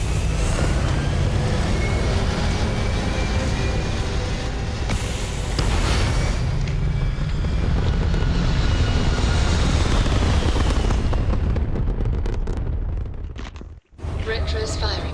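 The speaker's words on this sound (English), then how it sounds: "All thrusters firing." Spaceship thrusters firing in the game Starfield, a loud, dense, continuous roar that holds steady for most of the stretch, then breaks up into crackling bursts and a brief dropout near the end.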